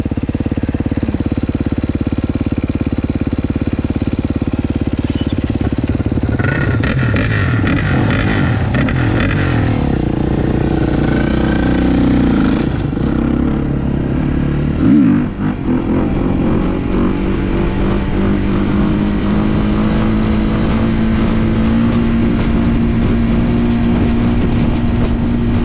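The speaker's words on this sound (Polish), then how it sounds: "A my na motocyklach." Motorcycles ride at sunset, one with a suspect exhaust, giving a loud continuous engine drone with rising and falling revs and rough roaring bursts, with no voices.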